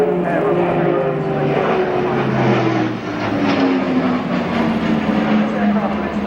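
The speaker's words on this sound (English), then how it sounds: "Now, powering up, turning in for what's become the signature of the Airbus." Airbus A400M military transport aircraft at an airshow, its turboprop engines powering up as it turns in, a loud continuous roar and drone with shifting engine tones throughout.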